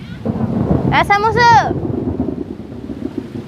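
Rain and a thunderstorm roll in outdoors while odiyal kool is cooked. A low rumbling wash runs throughout, and a person's voice cuts in briefly partway through.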